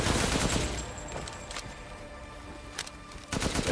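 Gunfire in Resident Evil Village comes through as a few scattered sharp shots over a dense, noisy game soundscape, short and fairly loud, with no talking.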